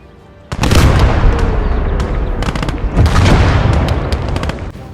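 A self-propelled gun in the Gates of Hell game fires with a deep thunk, followed by loud sustained booming and crackling gunfire and explosions around it.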